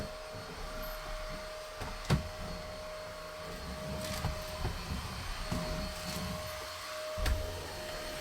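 A cordless stick vacuum cleaner running over a floor, a steady motor whine with a constant tonal hum and occasional brief knocks and bumps as the head moves, moderately close, no talk.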